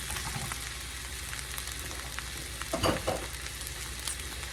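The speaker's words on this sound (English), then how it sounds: "let's stir that around" Diced stewed tomatoes (H-E-B brand) cooking in a pan: a constant, fairly loud hissing sizzle, with one louder scraping stir near the end and no voices.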